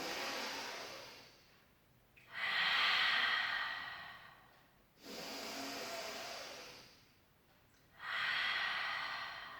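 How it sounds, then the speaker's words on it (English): Deep breaths taken during a Pilates rehab exercise: three long, slow airy breaths, the first fading in, then two strong swells separated by pauses, close and clear with no talk. "Take a big breath in."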